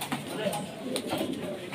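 Pigeons cooing at a pigeon seller's loft, soft low coos close by, mixed with someone talking over them.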